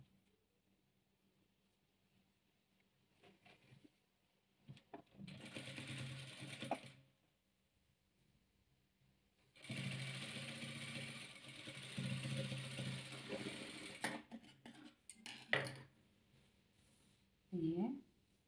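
A sewing machine stitches patchwork fabric pieces in two bursts, a short run and a longer steady whirring run, close and clear, with a voice talking in the quieter stretches between.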